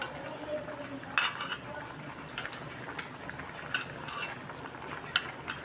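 Tamarind pulp being mixed by hand in water for kulambu in a home kitchen, soft sloshing and stirring with occasional clinks of a vessel or spoon, faint and close, no talking.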